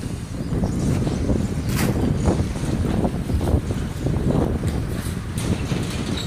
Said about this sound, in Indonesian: Untuk angin memang agak sedikit kencang ya untuk di area tempat ini.